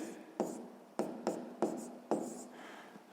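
A pen writes out a math equation on paper, with close, dry scratching strokes in a steady rhythm of about six separate bursts, each starting with a sharp tap.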